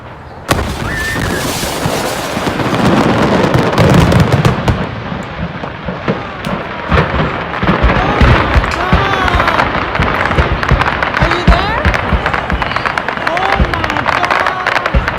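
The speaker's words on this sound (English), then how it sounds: "That's definitely fireworks. You can hear them." Fireworks going off in a storage blast, a dense continuous barrage of crackling pops and booms, captured on a home recording, with voices talking and reacting over the noise.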